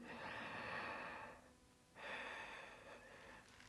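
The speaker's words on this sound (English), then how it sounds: "Breathe in and out in your nose with the sound of the ocean" Audible ujjayi breathing through the nose, two long ocean-like breaths, each a steady airy hiss, with a short quiet pause between them, close and fairly loud.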